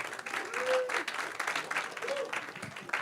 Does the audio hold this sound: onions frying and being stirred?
no